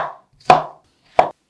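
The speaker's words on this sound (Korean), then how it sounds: "이렇게 오이를 다 썰었는데요" A knife chops cucumbers on a board in two crisp, separate strikes about a second apart, close and clear with nothing else around them.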